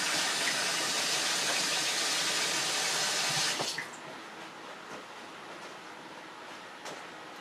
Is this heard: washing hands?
yes